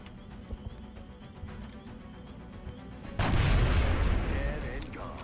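A soldier fires in the video game XCOM: after quiet game ambience, a sudden loud, sustained burst of gunfire breaks in partway through and rumbles on to the end.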